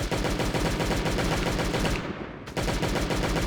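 Automatic gunfire in the survival video game Last Day On Earth Survival, a dense rapid stream of close, loud shots with a brief dip before firing resumes at full intensity.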